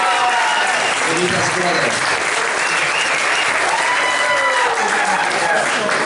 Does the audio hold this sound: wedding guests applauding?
yes